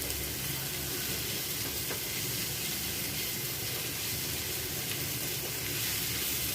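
A spiced curry masala with coriander, salt, chili and turmeric sautéing in a pan gives a steady, continuous sizzle and hiss that holds at an even level throughout, with no talk over it.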